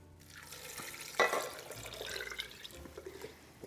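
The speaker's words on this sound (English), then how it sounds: "to that we're going to add 1 liter of low sodium vegetable broth" Low sodium vegetable broth poured into a soup pot with butternut squash and pears: a quiet splash, then a soft, steady liquid trickle that fades in and out.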